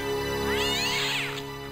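A cat in the game Broken Sword gives one long, drawn-out meow with a rising and falling pitch, loud and close over a steady background tone.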